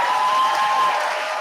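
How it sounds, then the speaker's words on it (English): An audience at a graduate hooding ceremony applauds, giving a brief burst of steady, dense clapping that fills the room without pause. "Give yourselves a round of applause"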